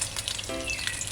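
An egg fries in hot oil, giving a brief, close, steady crackling sizzle that fills the whole moment without any voices.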